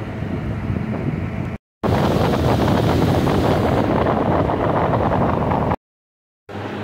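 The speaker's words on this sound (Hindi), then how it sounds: "और ये रही सरस्वती नदी।" The Saraswati river near Mana village in Uttarakhand makes a loud, steady broadband rush of fast mountain water, mixed with wind buffeting, cut by two brief silent gaps.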